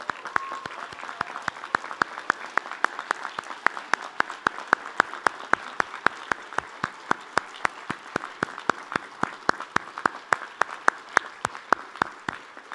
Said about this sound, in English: I ask everyone to join me in a round of applause